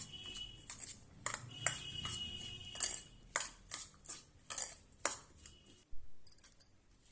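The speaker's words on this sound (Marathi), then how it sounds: "आता आपण यामध्ये एक चमच टोमॅटो सॉस घालूया आणि हे सर्व आपण एकत्र करून घेऊया" A spoon mixing chapati filling with tomato sauce in a metal bowl, bright repeated clinks and scrapes in an uneven rhythm, close and clear, with no speech.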